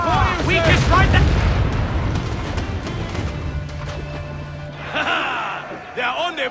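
Ship cannons firing in Assassin's Creed Black Flag, heavy rumbling booms layered under shouting crew voices and game music, with a fresh burst near the end.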